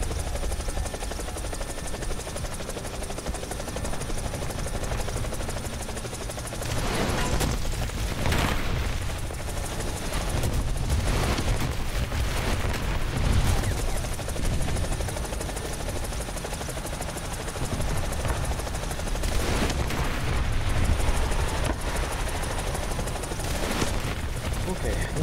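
Rapid bursts of gunfire and booming blasts in a War Thunder battle, including an armored vehicle such as a BMP, sounding near and loud over steady engine drone, with intermittent clusters of shots and a voice talking at times.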